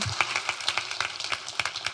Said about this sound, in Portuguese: Dê uma assa de palmas aí para Deus.